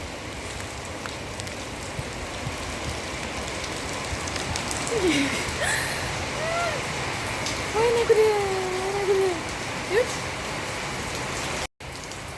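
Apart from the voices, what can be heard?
rain falling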